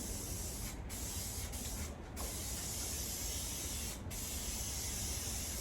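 Aerosol spray paint can hissing steadily as the final coat goes onto a Peugeot J9 coffee van during restoration, close and continuous with three short pauses between passes.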